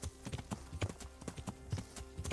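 Horse hooves clip-clop in a steady walking rhythm in the medieval game Kingdom Come Deliverance, close and distinct throughout.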